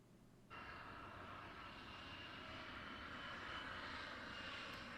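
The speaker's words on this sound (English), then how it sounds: "That's F-22 Raptor." An F-22 Raptor fighter jet roars overhead, its engine noise rising suddenly and holding as a loud, steady broadband rumble with a whining edge, no voices.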